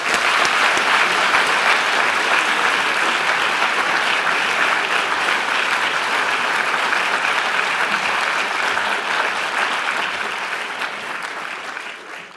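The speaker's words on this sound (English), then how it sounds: "could we give a rousing, fully rousing applause for our guest, Paul Polman" A large audience claps for guest speaker Paul Polman, a thick, sustained wash of applause that holds strong for about ten seconds before tapering off toward the end.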